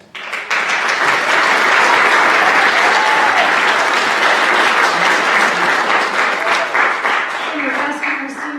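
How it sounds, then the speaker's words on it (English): At a high school spring concert, the audience breaks into loud, dense applause that swells in quickly and holds strong for several seconds, with a few voices and cheers rising above the clapping near the end. "We can get to a round of applause."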